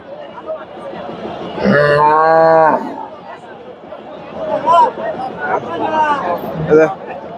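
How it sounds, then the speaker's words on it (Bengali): A Nepali Gir cross cow moos once, loud and close, at the busy Dhap cattle market in Bogura, with crowd chatter and nearby talk before and after the call. "সুন্দর একটা গাভী নিয়ে আসছে ভাই"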